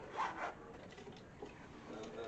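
A purse is unzipped and opened, giving a soft scratchy zip and rustle near the start, followed by quieter rubbing and handling noises.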